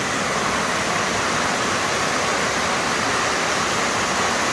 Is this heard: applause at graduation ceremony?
no